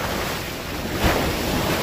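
Sea surf at Murud beach near Alibaug, a constant roar of breaking waves mixed with heavy wind buffeting the microphone, loud and unbroken with a slight swell midway and no talk.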